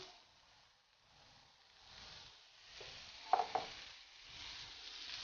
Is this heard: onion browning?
yes